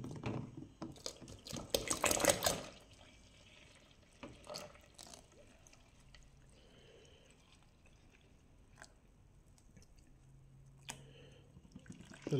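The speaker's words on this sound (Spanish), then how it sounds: "Le vamos a agregar otro poco más de leche." Milk pours into a frying pan while coconut-milk ice pops are being made: a short, loud liquid splash near the start, then quiet drips and small clicks.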